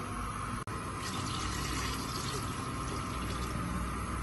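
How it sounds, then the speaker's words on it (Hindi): Water pours steadily into a cooking pot holding soaked rice for a beef and rice dish, a continuous close splashing fill with a brief dropout near the start and no talking. "हाफ जो है ये दोबारा से हम हाफ इसमें डाल देंगे पानी"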